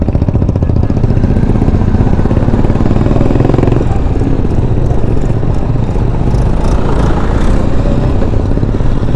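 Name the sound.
tractor engine running, driven by a woman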